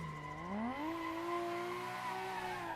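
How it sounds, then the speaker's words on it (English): Car tyres squeal in a rolling burnout with light brake pressure during a drifting drill, a sustained rising then steady tonal screech layered over engine drone, loud and continuous with no voices. "it's essentially just a rolling burnout with light brake pressure."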